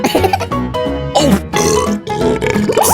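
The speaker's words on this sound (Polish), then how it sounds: "Co za beknięcie! To obrzydliwe!" A loud, wet burp rumbles for several seconds in long gurgling bursts, close and forceful, with no speech over it.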